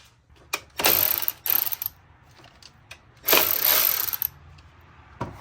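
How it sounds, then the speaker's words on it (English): A ratchet loosens the valve cover bolts on a BMW 335d diesel engine, giving two long, loud bursts of rapid metallic clicking with brief pauses and a shorter burst at the end. "And then we're going to loosen this bolt and this one."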